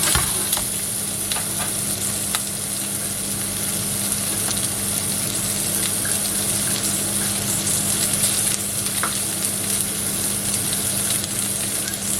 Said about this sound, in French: ça chauffe et on met les crevettes. On va les faire dorer un petit peu comme ça.